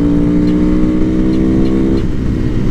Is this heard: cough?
no